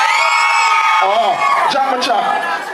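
A loud crowd of girls at a stage show in East Kingston shrieks and cheers together, high-pitched screams overlapping and holding strong before tapering slightly at the end.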